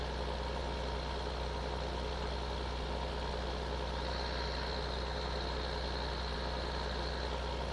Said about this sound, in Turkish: Böyle tam ara gazı verilecek traktör sesi gibi çıkıyor.